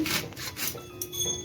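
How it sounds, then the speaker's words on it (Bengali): A knife slices through leafy bethe saag greens, chopping them finely for a village-style Bengali winter fry: quiet, close rasping strokes in short repeated bursts. "আমি একটু শাকটা কেটে দেখাচ্ছি।"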